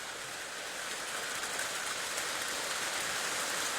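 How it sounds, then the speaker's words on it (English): Steady spring rain pours down outdoors, a dense, even hiss of drops striking surfaces close by, continuous and unbroken with no voices. "and here comes the rain"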